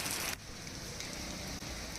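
Rain falls in Anand, Gujarat under heavy dark clouds, a dense, even hiss of drops that is slightly louder at the start and continues steadily.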